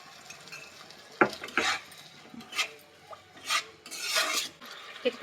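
A little water goes into a pan of egg chili. It sizzles in uneven bursts, with close scraping and stirring sounds from the pan as it is worked.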